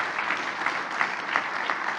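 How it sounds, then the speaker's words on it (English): A short burst of steady audience applause for a panel at a symposium, heard from a moderate distance. "Can we have a round of applause for this great panel?"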